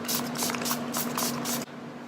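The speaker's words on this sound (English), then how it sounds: "So I'm going to be taking my Urban Decay Chill Setting Spray." Urban Decay Chill makeup setting spray is misted in about six quick, close hissing bursts in a steady rhythm, then stops.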